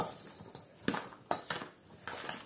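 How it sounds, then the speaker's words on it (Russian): A spoon stirs a pumpkin, rice and dried fruit filling in a bowl, making soft, quiet scraping and clinking strokes in an uneven rhythm of about five distinct scrapes. "Все хорошенечко размешиваем."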